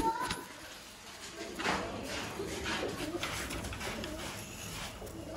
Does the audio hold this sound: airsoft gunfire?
no